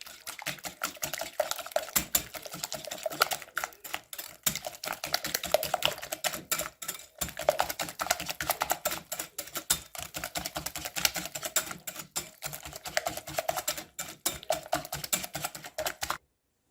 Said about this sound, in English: I'll also crack my eggs. Whisk this all together